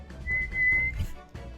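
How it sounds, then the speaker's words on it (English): A person whistles a single sustained steady note for about half a second, close and clear, followed by a few breathy, airy sounds. "do you know how to whistle?"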